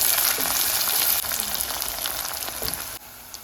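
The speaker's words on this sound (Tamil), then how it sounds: "இப்போ நாங்கள் இதுக்குள்ள கட் பண்ணி வச்சுருந்தா வெள்ளைப்பூடி சேர்ப்போம்." Chopped garlic frying with onions in a pan for a Jaffna-style elephant foot yam stir-fry, a dense steady sizzle with crackles that drops slightly in level near the end.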